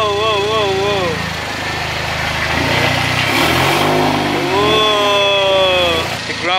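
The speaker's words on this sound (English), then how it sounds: "That was the loudest car I ever heard in my life" A Range Rover Velar's loud engine roars and revs close by, rising and falling in pitch, while people talk and shout excitedly over it.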